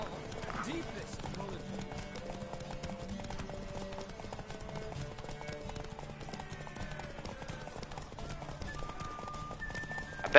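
A horse gallops in a race in The Witcher 3, its rapid rhythmic hoofbeats continuing throughout under game music and someone talking, with a whinny near the start.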